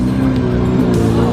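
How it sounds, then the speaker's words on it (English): Supercars arriving on a cruise to Sedona, a continuous loud low engine rumble with some revving, steady throughout and fairly close. "All the cars are pulling up."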